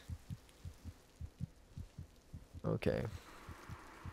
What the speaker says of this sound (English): I can hear my own heartbeat though